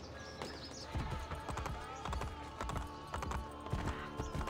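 Horse hooves clip-clopping at a gallop in the video game Assassin's Creed Brotherhood, a steady repeated thudding rhythm over busy game ambience.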